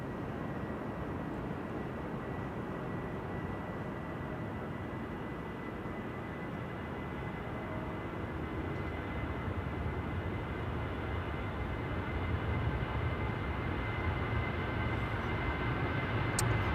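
Aircraft taking off from Amsterdam Schiphol Airport, a steady broadband engine roar that holds at a distance and swells slightly louder toward the end, with no voices over it.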